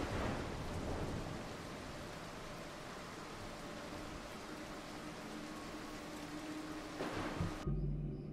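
A thunderstorm from the stealth video game Mark of the Ninja: steady hissing rain with a rolling thunder rumble, continuous and moderately quiet, ending abruptly near the end.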